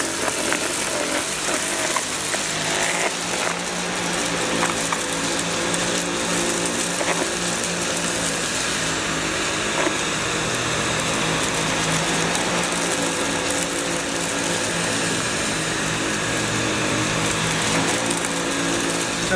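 A Sebo D4 canister vacuum cleaner runs continuously, giving a loud, steady whirring drone with a faint mechanical rattle and no pauses.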